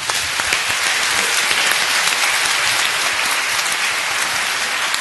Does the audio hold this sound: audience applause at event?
yes